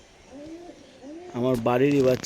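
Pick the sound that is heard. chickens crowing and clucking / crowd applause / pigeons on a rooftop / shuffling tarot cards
pigeons on a rooftop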